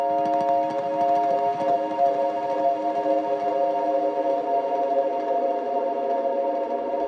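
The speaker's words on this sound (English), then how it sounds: "So I tried to capture that with these harmonic strums" Heavily processed guitar harmonics, strummed and held, ring out as a shimmering sustained chord that slowly decays and thins over several seconds, alone with no talk.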